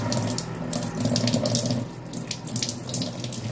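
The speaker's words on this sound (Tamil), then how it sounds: "நம்ம அந்த வேரை வந்து வாஷ் பண்ணிடணும்" Tap water runs steadily over the roots of a money plant as they are washed, a close, continuous splashing flow with no talking.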